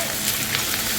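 Onion and chilli hitting hot oil while cooking homemade momo filling, giving a steady, dense sizzle and crackle throughout the short moment.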